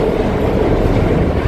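Loud, steady rumbling and grinding roar of a ferry's engine braking as it docks at a pier, continuous and close throughout.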